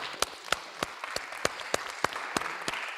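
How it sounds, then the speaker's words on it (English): Sparse applause at a leadership conference for business owners: a handful of distinct, sharp claps spaced roughly evenly, over a soft bed of lighter clapping from a small crowd. "if we can just give a round of applause"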